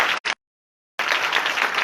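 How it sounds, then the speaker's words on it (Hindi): Applause from an outdoor crowd at a street revival meeting, two short bursts of clapping, then a gap of silence, then steady dense clapping resuming. "जिसे आपको भी यहां पर जमा किया उसके लिए जोरदार तालियां"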